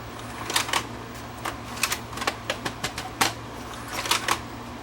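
Panasonic PV-V4522 VCR struggling to load a tape, heard as a series of sharp mechanical clicks and clunks at an irregular pace over a low steady motor hum, close up with no talking.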